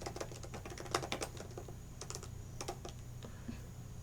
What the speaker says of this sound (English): Just keep typing